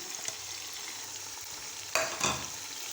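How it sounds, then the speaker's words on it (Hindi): Dry spices (coriander, salt, cumin, red chili and turmeric) roasting in a pan for moong dal give a steady, close sizzle, broken by a couple of sharper scraping stirs near the end. "अब इस मसाले को अच्छी तरह से भून लेंगे"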